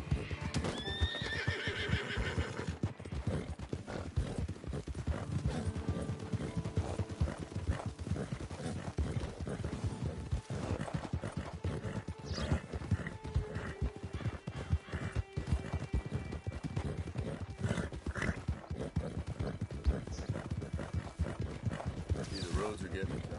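Steady hoofbeats of a galloping horse with a neigh near the start, continuing under a constant layer of game sound effects in Red Dead Redemption 2.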